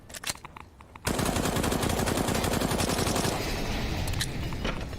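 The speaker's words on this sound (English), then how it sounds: "Oh, some wall bangs coming out." Sustained rapid automatic gunfire penetrating walls in a Counter-Strike match, a dense loud burst after a few sharp isolated shots, continuing for several seconds without talk.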